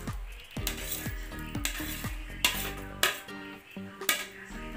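Banana pieces dropped into a pot of cooking glutinous rice for ginataang bilo-bilo, with soft thuds and clinks of a metal utensil against the pot repeating in a steady rhythm, close and fairly quiet, with no voices.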